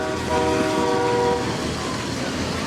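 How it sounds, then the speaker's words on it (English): A train rumbles steadily past, its horn sounding a sustained multi-tone blast over the continuous roar of wheels on track. "Sounds like a train coming."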